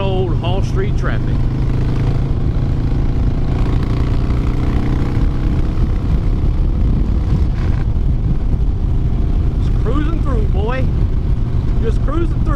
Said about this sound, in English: good old Hall Street traffic.